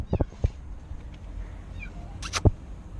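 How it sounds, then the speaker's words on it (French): A cat in Morocco gives a few short, faint meows amid quiet background noise, with brief sharp knocks and some speech nearby. "Où tu miaoutes?"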